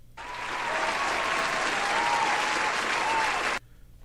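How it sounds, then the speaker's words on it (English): A canned applause sound effect plays during a livestream, a dense crowd clapping that swells in quickly, holds steady and loud, then cuts off abruptly after about three and a half seconds. "where's my applause at?"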